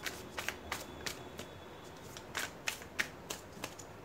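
Tarot cards are shuffled by hand in a quiet room: a steady run of soft, crisp riffling clicks and snaps, close and fairly faint, with no talking.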